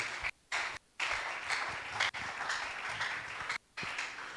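Church congregation applauding to acclaim God, a dense continuous wash of clapping from many hands, broken by a few brief gaps.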